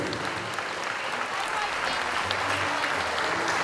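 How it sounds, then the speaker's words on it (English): Loud, continuous clapping from a sizable audience at a Mr. and Miss school pageant rolls on evenly, with faint talk or calls buried in the applause. "One more hand of applause for our kings and queens."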